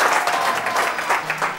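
A TV studio audience claps for magician Sergio Lozano, steady close applause with a slight swell and dip, and a faint voice surfacing near the end.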